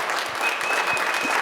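Audience at a graduate degree showcase breaking into applause, a dense, loud, continuous patter of many hands filling the room for the whole moment.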